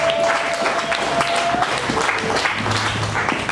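A church congregation claps and applauds together during a service, a dense, steady burst of clapping that fills the whole stretch, with a faint voice underneath.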